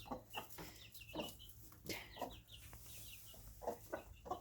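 Young chickens clucking and peeping in short bursts, close by, with quiet gaps between calls and a low hum underneath.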